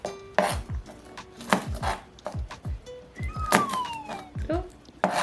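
Knife chopping through garlic clove ends on a cutting board in a home kitchen, a series of sharp close thunks in uneven rhythm with a voice talking over them.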